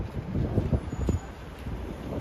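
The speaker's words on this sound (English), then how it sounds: "It's kind of windy, right? Super duper windy." Low buffeting wind rumble hitting the microphone outdoors in Manhattan, steady and fairly loud with gusty thumps.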